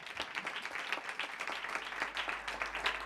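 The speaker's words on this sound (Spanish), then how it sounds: "Fuerte aplauso." An audience at an acoustic concert breaks into loud, dense applause for a band member being introduced, a continuous burst of clapping filling the whole short stretch.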